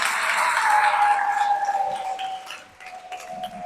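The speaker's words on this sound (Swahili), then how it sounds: "naomba tumpigie baba Yesu makofi mengi sana" A congregation at a church savings and investment seminar gives a burst of broad, hissing applause that slowly fades. A steady high whistling tone runs through it.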